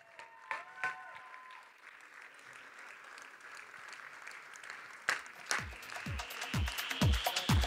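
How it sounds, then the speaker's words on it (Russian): Applause at a ballroom dance event for a slow foxtrot couple, starting thin and scattered and building toward the end, with several louder individual claps standing out near the listener. "пусть они услышат ваши аплодисменты"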